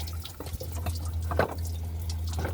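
Coolant drips from the water pump area of a 2003 Cadillac Escalade with a 6.0 engine, faint irregular drips and splats over a low steady hum in a quiet shop.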